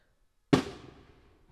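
A single sharp firework bang outdoors in daylight, a sudden crack followed by a fading rumbling tail, heard fairly distant and alone.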